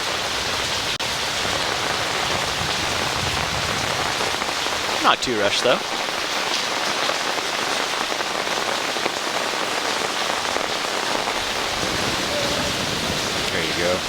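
Steady rain hisses down across a disc golf course during the fourth round of a 2020 tournament, an even wash of drops with a brief clatter midway, while a commentator talks over it.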